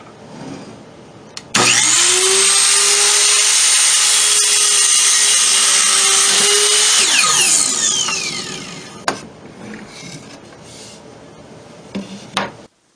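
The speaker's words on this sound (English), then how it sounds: "The first step is to cut the boards to length with a miter saw." A miter saw spins up and slices through wooden boards cut to length for a small storage cabinet, one loud sustained cut of about six seconds that winds down, followed by a few short knocks and clatters.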